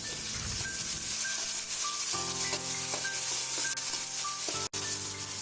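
Onions frying in hot oil with ginger garlic paste for a sundal fry, a steady close sizzle with occasional stirring scrapes and a brief tonal whine over the bubbling.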